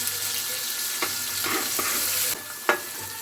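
Curry leaves and turmeric with green chillies crackling in hot oil for a potato curry, a loud continuous sizzle broken by a few stirring scrapes and one sharp clatter.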